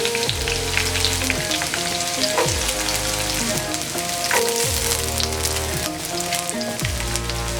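Crushed ginger and garlic sizzle continuously in hot oil with mustard seeds, a dense crackling fry under a steady repeating low hum.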